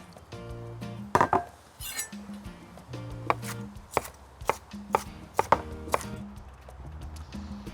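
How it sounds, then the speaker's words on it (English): Knife chops blanched broccoli on a board in a series of quick, irregular thuds and knocks, close and fairly loud, with faint clinks between strokes and a low background hum. "Gonna add some blanched broccoli. Just gonna give it a coarse little chop."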